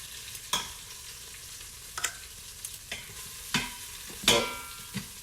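Beef chunks sear in an Instant Pot, giving a quiet, steady sizzle. Several sharp scraping stir strokes break through it, close up and with no talking.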